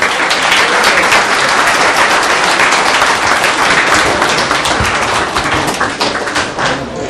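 Steady, dense applause from the audience at a karting season awards ceremony, close and loud, continuing evenly for several seconds before easing slightly at the end.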